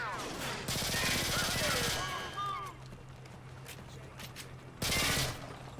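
Gunfire in the Modern Warfare 2 campaign, two loud sustained bursts of rapid automatic fire with a quieter stretch of ricochets and scattered shots between them, a voice talking underneath.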